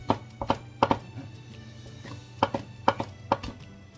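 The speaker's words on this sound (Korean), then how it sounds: "고추는 그냥 땡글땡글하게 썰어줍니다" Chili peppers sliced into rounds on a cutting board, sharp knife knocks in quick clustered bursts with a short pause mid-way, close and crisp, no talking.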